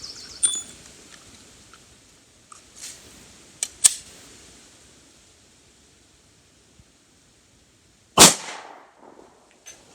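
A Glock 20 pistol fires a 10mm Federal HST 200-grain round, one sharp loud report late in the clip, with a few fainter clicks and knocks before it in otherwise quiet outdoor surroundings.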